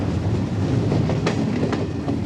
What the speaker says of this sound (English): the Hungarian state railway, brings them from the border in their thousands